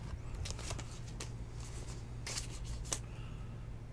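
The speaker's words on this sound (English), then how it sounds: "I don't know why I'm putting large sleeves on these cards." Trading cards being slid into large plastic card sleeves, close, papery swishes and rustles in several short bursts over a quiet background hum, with no talking.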